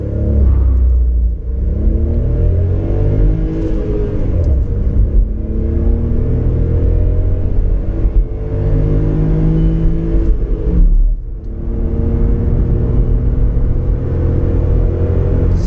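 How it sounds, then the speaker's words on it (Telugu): A Volkswagen Polo car accelerates steadily toward 100 km/h for a brake test, with a loud, continuous engine drone rising through the gears from inside the cabin. Brief dips mark gear shifts. "చలో ఇంకొకసారి కూడా బ్రేక్ టెస్ట్ చేద్దాం."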